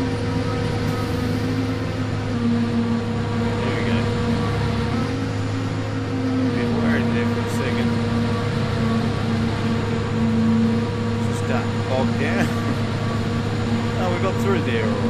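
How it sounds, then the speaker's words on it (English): A farm vehicle engine in the video game Farming Simulator 22 runs at a steady, loud hum with a constant low drone that barely changes across the whole stretch. "I'm going to make sure I keep my engine going because I slowed down a little bit."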